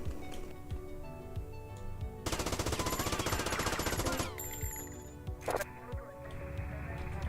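Rapid gunfire in GTA Vice City rattles in a dense, loud burst of automatic shots, with scattered single shots and game sound effects before and after.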